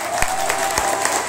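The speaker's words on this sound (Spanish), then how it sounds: "Un aplauso para la gente de seguridad" Applause from a live concert audience at a peña, honoring the security staff, with a few sharp claps standing out over a steady patter.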